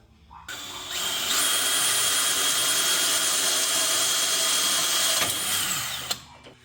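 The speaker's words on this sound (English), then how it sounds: "I gotta drill up, hopefully hit right on the bolt" A power drill whines at high speed for about five seconds, drilling upward into bolts on a Jeep CJ7, loud and continuous, then spins down and stops with a small clunk.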